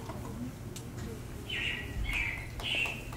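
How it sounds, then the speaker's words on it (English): Recorded robin chirps from the Carousel of Progress animatronic stage show, three short bright tweeting bursts over steady low background hum. "it looks like the Robins are getting ready to celebrate Valentine's Day today"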